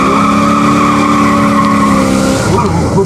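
A Pontiac car with a new engine warming up at a car show, a loud steady engine drone with strong sustained tones, shifting near the end as voices and crowd noise join in.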